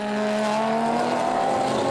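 FIA GT race cars at the Nogaro circuit scream past close by, high engine notes gliding upward through a hard acceleration out of a double left-hander, loud and sustained with no talk over them.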